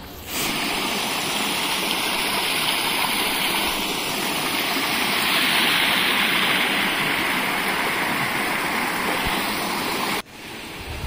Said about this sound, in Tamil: எங்களுக்கு ஆப்போசிட் டைரெக்ஷனில் தண்ணி ஓடிட்டுருக்கு